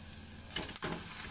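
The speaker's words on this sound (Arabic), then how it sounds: "هبتدي ان انا اشوح في البصلايه بتاعتي" Onion sautéing in butter in a pan gives a steady close sizzle, broken briefly by a couple of scraping stirs partway through.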